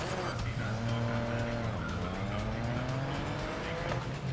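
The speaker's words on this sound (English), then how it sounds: "Oh, like mini Formula One cars." Mini Formula One-style race cars speed around a track in the GRID Legends video game, their engines whining and rising in pitch as tires squeal, a steady loud roar throughout.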